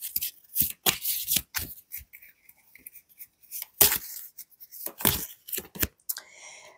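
Oracle cards from a Northern runes and legends deck being shuffled and drawn, a run of crisp, close slaps and riffles in short bursts with pauses between, no talking.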